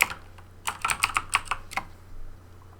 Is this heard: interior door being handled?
no